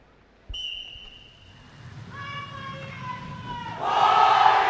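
A referee's whistle blasts sharply to open an ABU Robocon 2023 robotics quarterfinal match, followed by a series of shorter whistle tones, then an arena crowd erupts into loud cheering.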